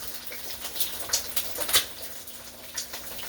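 Oil spits and crackles as an egg fries in a pan, with irregular sizzling pops and splashing, some sharper bursts, over a steady low hum.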